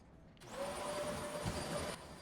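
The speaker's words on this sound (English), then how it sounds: "I was about to vacuum" A household vacuum cleaner switches on and runs steadily at close range, a broad whining roar with a thin high tone, used while cleaning a room before mopping.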